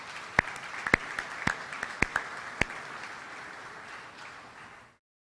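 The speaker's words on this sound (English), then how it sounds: "put your hands together and applaud them" Audience applause at a Manitoba Derby press conference, a steady wash of many hands with a few sharp individual claps standing out, fairly close, fading to silence near the end.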